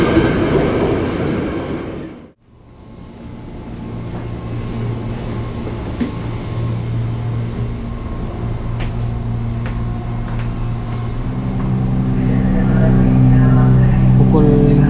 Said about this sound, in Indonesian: Kereta api KRL tujuan Tangerang masuk di jalur 5.